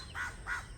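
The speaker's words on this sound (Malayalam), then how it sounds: "കാക്കയൊക്കെ കരയുന്നു" Two loud crow caws in quick succession, close by and alone, in the morning.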